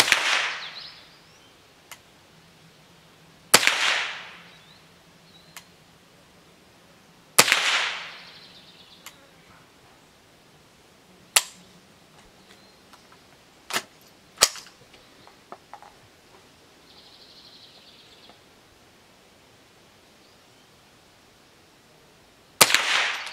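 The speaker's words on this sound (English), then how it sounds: "let's get started on some shooting" Ruger 10/22 rifle fitted with Tech Sights firing single sharp cracks at irregular intervals, about eight shots with quiet gaps between, outdoors with no talking.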